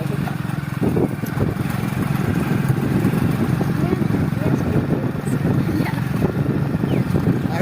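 A motorcycle engine drones steadily and loudly for several seconds on a ride toward a village, its low rumble unbroken throughout, with voices faintly mixed in beneath it.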